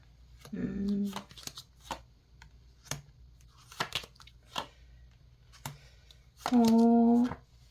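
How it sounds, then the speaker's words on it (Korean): Tarot cards are shuffled with two loud riffling bursts, and between them come soft taps and slides as the cards are spread out, all close up with no talking. "상대방의 속마음 카드 한번 펼쳐보도록 할게요."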